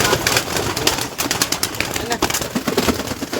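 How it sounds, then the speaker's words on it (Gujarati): Pigeons coo in a busy, close chorus, a constant layered murmur broken by sharp ticking clicks and brief fluttery bursts that rise and fall over a few seconds. "આમ જો ખાલી એટલાક જ છે કબૂતર."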